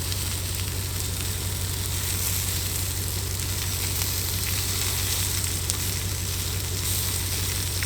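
Pork fries in a pan over low heat in a mountain cooking setting in Maine, giving a steady, close sizzle and crackle that holds evenly throughout with no talking.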